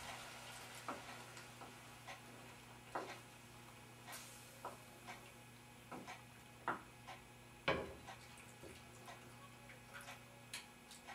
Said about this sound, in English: Now we're adding the chicken broth a little bit at a time and stirring it.